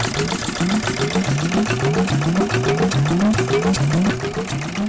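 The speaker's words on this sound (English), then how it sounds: "The Schmidt water engine, 1871, pulls the story further back, before internal combustion dominated." An 1871 Schmidt water engine, an early hot-bulb steam engine, running with a steady rapid chugging beat of repeated mechanical strokes, loud and close, alone and without talk.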